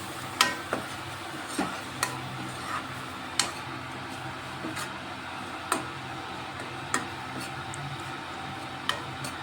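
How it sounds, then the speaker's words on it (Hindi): Spices such as turmeric, coriander powder and red chilli being stirred in a cooking pan, soft scraping under a faint sizzle, punctuated by light irregular clicks and taps of the utensil against the pan. "मसाले डालने के बाद थोड़ी देर इसको मिक्स करते हैं"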